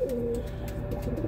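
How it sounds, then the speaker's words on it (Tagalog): A pigeon cooing aboard a ship, giving a soft, low, rolling coo close by, repeated over a second against a steady engine hum. "itong kalapati na ito ay pinapainom ng oil"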